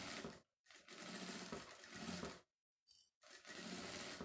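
A sewing machine runs a quick safety seam joining lining to fabric, in three close bursts of steady whirring stitching separated by short pauses.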